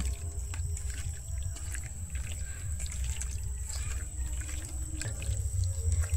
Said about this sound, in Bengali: আমি এরপরের মধ্যে দুধ দিয়ে দিচ্ছি